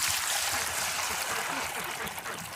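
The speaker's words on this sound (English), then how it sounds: "So I'm going to fill this bowl up with some water." Water pours steadily into a bowl set out for goats, chickens and ducks in winter, a continuous close splashing trickle that runs for the whole stretch without a break.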